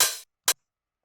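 A tech house hi-hat left unshortened rings out as a longer bright noisy wash, followed by one shorter crisp hit, close and alone.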